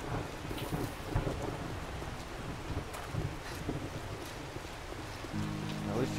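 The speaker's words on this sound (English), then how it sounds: "The rain's coming through the roof here." Heavy rain pours down with rolling thunder and gusts of wind inside the survival video game 7 Days to Die, a continuous dense downpour broken by low rumbles, with rain beating on a house roof.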